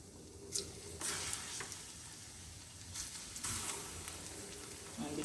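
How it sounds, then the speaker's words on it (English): Plantains frying in hot oil give a steady, close crackling sizzle with occasional sharper pops, continuous throughout and fairly quiet, with no speech over it. "be careful when you're frying your plantains, because we all know what hot oil can do"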